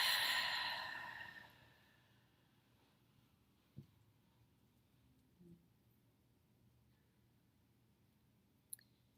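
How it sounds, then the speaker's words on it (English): A single deep exhale during a guided full moon ritual meditation, soft and fading over a couple of seconds, then near silence with a few faint small clicks. "Take one deep breath here. Go ahead and inhale. And exhale."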